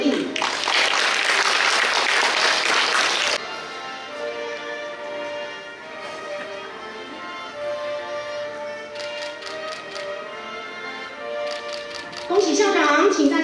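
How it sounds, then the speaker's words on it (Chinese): Applause fills a hall for a new principal at a school principals' handover ceremony. Dense clapping for the first few seconds gives way to a speaker on a loudspeaker, then clapping returns at the close. "掌声鼓励。"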